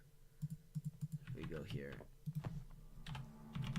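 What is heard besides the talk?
computer keyboard typing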